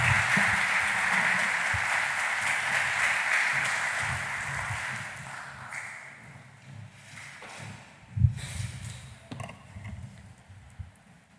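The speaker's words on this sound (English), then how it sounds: "support our participants with a warm round of applause" Audience applause at a school public speaking competition, a warm round of many hands clapping that gradually thins and tapers off, leaving scattered claps, shuffling and a few bumps.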